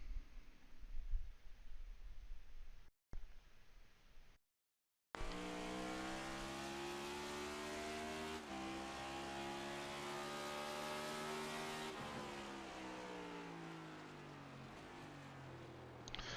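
Race car at speed on a lap, engine whining loud and steady with rising and falling pitch across gear changes, a short gap of silence before the sustained high revving takes over; no talk.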